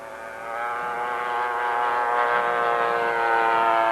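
A radio-controlled scale model airplane comes in to land, its engine a steady harmonic drone that swells slightly louder and holds, with no voices.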